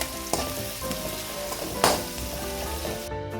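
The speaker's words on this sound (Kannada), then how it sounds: "ಕಟ್ ಮಾಡಿರೋಂಥ ಈರುಳ್ಳಿ ಸೇರಿಸ್ತಾ ಇದ್ದೀನಿ ಸ್ವಲ್ಪ ಹಸಿಸ್ ಮೇಲೆಲ್ಲ ಹೋಗೋವರೆಗೂ ಫ್ರೈ ಆಗಬೇಕು" Chopped onions frying in hot oil alongside chicken liver, a steady close sizzle with a few louder crackles and stirring scrapes, and no talking.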